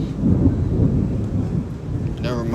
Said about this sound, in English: Never mind the thundering in the background